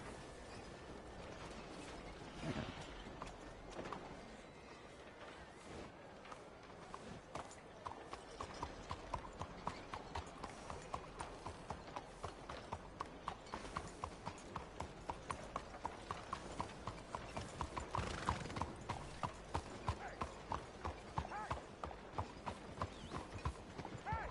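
Steady clip-clop of horse hooves in the video game Red Dead Redemption II, a quick rhythmic trot close by, with faint mechanical clicks and occasional voices in the background.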